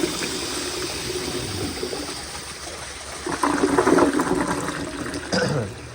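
A 1992 ADA URC Apollo toilet on a flushometer flushes nearby with a hissing rush of water that swells midway, surges, then drains and refills with gurgling.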